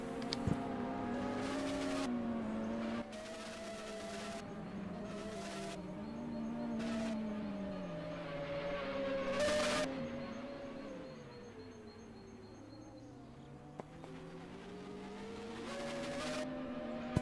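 Group C race cars in a racing video game circle the track at low pace behind a pace car, a steady engine drone with shifting pitch and a few brief louder bursts, no voices.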